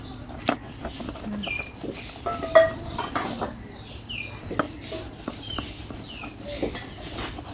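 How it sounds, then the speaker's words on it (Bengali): Dried fish mash (sidol shutki with gourd leaves) being ground on a stone grinding slab, giving faint, irregular scraping knocks and clacks in a quiet outdoor setting, with occasional bird chirps in the background. "এখন শিলপাটা দিয়ে হচ্ছে এই ভর্তাটাকে বেটে নিতে হবে"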